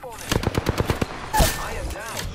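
Rapid automatic gunfire from a first-person shooter video game, a quick string of sharp shots followed by a heavier blast, with a player talking around it.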